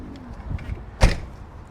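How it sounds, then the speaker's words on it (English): A Camec reinforced security door with three-point locking on a 2025 Crusader Musketeer Empress fibreglass caravan gives one sharp mid-clip clunk as it is operated, with quiet room sound before and after. "it's a Camic reinforced security door with 3 points of locking"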